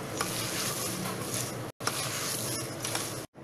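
Poha cutlet mixture with amchur powder is mixed by hand in a bowl, a close, continuous wet squelching and rustling broken by two brief silent cuts, no voices.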